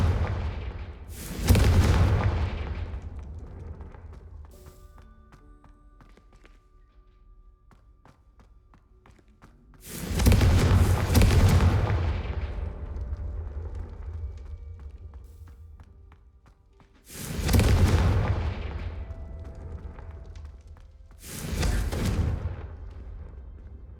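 Confringo fire-blast spells cast in Hogwarts Legacy, four loud booming blasts spaced several seconds apart, each with a sharp attack and a long rumbling decay into near silence.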